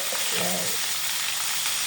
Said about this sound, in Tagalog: Then, isusunod ko na ito aking minarinate na pork.